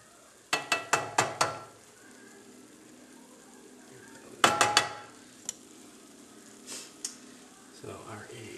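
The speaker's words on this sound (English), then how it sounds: "So our egg is slowly cooking." An egg omelette cooks in a pan, with a quiet sizzle under bursts of sharp clinking and scraping from utensils against the pan, two loud clusters and a few scattered knocks.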